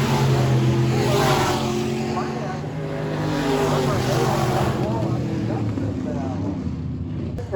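E-Mod race cars roar around the back stretch at Lakeside Speedway, a continuous loud engine drone under an announcer's running commentary.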